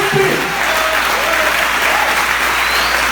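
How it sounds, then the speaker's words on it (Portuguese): A church congregation applauds loudly and continuously, a dense wash of clapping with faint vocal cheers mixed in throughout. "Reage, igreja, aplaudindo ao que Ele vive para sempre."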